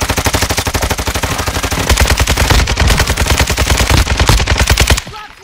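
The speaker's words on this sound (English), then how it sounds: "Oh, someone's shooting him." Rapid automatic gunfire in a video game shooter, loud and close, firing in long sustained bursts of evenly spaced shots for about five seconds before cutting off.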